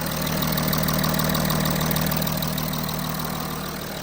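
A 3.0 TDI diesel V6 in a C7 Audi A6 idling with freshly installed injectors, a loud, steady close-up engine drone with a fast, even ticking running through it, no talking.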